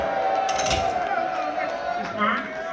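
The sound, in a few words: concert crowd making noise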